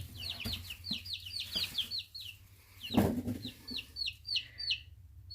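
Several chickens and a chick cheep and cluck close by in quick, high-pitched bursts, with a brief thump partway through.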